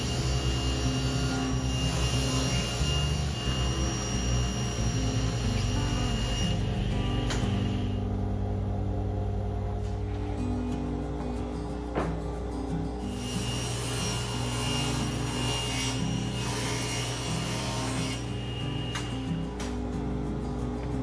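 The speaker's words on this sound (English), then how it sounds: "I begin cutting all 10 shelves." Wooden bookcase shelves being cut one after another with a power saw in a workshop, a loud continuous whine and rasp that swells and drops between passes, with no talking.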